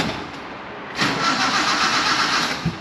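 A mini-truck engine with a weak battery cranks and churns continuously after a short pause, struggling without catching, loud and close.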